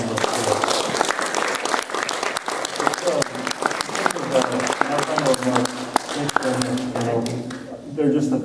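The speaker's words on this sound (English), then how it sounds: "Let's give a round of applause to our panelists" A forum audience applauds its panelists with dense, sustained clapping and sharp individual claps standing out. Voices murmur underneath, and the clapping thins near the end.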